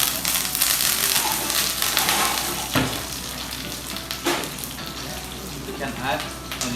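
Curry leaves hitting hot oil in a pan, a loud, bright crackling sizzle that bursts strongly at first, then settles into a steady spitting hiss with a few sharp clinks.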